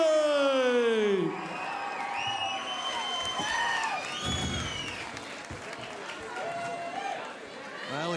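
Home crowd at a Gamebred Bareknuckle fight event erupting after a quick first-round submission win: loud whoops, shrill whistles and shouting voices over a dense, sustained roar that eases slightly but stays lively throughout.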